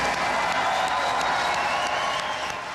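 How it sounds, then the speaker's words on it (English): A studio audience applauds an astronaut crew with sustained, dense clapping throughout, loud and steady with no break. "How about one more round of applause for this wonderful crew?"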